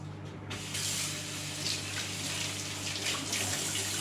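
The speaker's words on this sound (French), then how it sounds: "Je vais venir la rincer à l'eau." Tap water runs steadily and fairly close in a home kitchen, splashing over a savoury ingredient being rinsed; the flow starts abruptly after a brief quiet moment and stays constant to the end.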